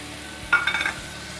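Beetroot, soya chunks and ground spinach paste dropped into a hot pan, giving a sudden burst of sizzling with a few short stirring scrapes before it settles back into a low background hiss.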